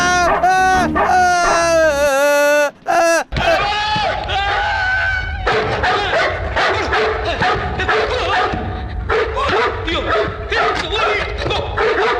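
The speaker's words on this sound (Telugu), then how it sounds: "ఇక్కడ కుక్క వచ్చిందే" A dog barks and yips in a Telugu film scene, with sharp repeated calls over busy, loud background sound.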